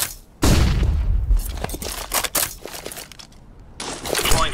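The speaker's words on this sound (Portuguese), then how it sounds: "Deploying flashbang." A flashbang grenade in CS:GO bursts with a loud sudden blast, followed by crackling, rattling debris and scattered sharp hits, then a bright high ringing tail near the end.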